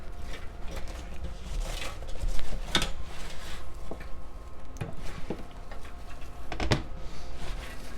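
Caramel-coated popcorn stirred in a pan with a utensil gives irregular clicking, ticking and rattling close by, a few sharper knocks standing out over a soft, continuous rustle.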